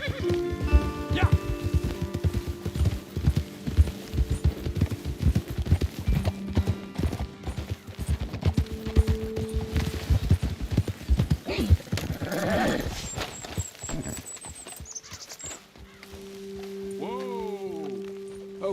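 Horses trot in Red Dead Redemption 2, their hooves making a steady, close clip-clop over a rainy outdoor backdrop, slowing and fading near the end as a horse snorts.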